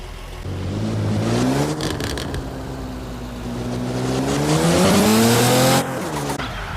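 A car engine in the Car Parking Multiplayer video game revs up, drops, then climbs again to a high whine before cutting off, loud and close with no speech.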